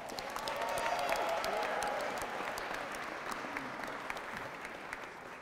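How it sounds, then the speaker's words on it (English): A crowd applauds a mayor-elect's speech honoring David and Shannon at a Shelby County Democratic Party event, steady clapping filling the room for several seconds at moderate distance. "so we should give David and Shannon a round of applause."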